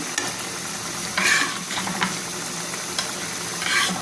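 Pieces of fish dropped one at a time into a hot pan of sautéed green peas, bringing a steady close sizzle and hiss with stirring scrapes and brief louder bursts as each piece lands.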